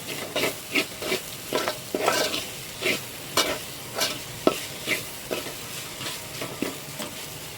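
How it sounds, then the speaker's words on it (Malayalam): Okra stir-fried in a large pan, with rhythmic scraping stirs about twice a second over a constant sizzle, close and clear, with no talking. "ഇത്രയും വലിയ പാത്രം എടുത്താലാണ് നമുക്കിതുപോലെ ഒന്ന് ഫ്രീ ആയിട്ട് കിണ്ടി മൂപ്പിച്ചെടുക്കാൻ പറ്റുന്നത്"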